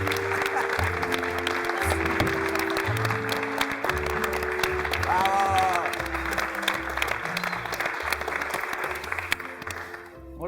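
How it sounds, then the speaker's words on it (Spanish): A university theatre audience gives a loud, sustained round of applause to welcome a guest, with music playing beneath it and the clapping thinning toward the end. "Un fuerte aplauso."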